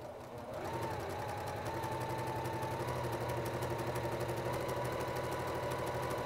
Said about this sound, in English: We're going to just do a 1/4 inch seam in that.